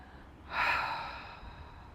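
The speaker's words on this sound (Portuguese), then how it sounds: "Inale profundamente e exale pela boca." A single deep exhale through the mouth during a yoga relaxation, a soft breathy rush that swells quickly and slowly fades away, close and quiet with no talking.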